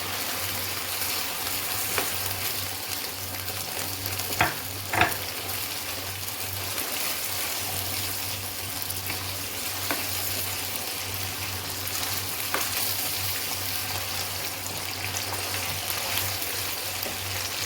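Chicken cooked in yogurt sizzles and fries steadily in a pan after oil is added, a continuous crackling hiss with a couple of sharper pops, close and even throughout.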